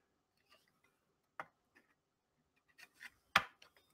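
A knife cutting pastry dough for homemade taco pop tarts, drawn along a card guide: a few faint, sparse ticks and light scrapes at quiet, uneven intervals, the sharpest one near the end.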